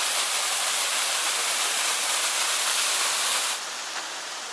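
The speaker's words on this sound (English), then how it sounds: "First waterfall." A waterfall in Tasmanian rainforest roars as a dense, steady hiss, then drops noticeably quieter near the end as the listening position shifts.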